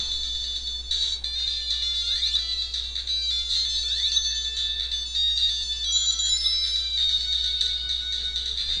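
Underwater running-out-of-air warning from Sonic 2, the video game: high repeating beeping tones over game music with a low steady hum, continuous and moderately loud, with no talk.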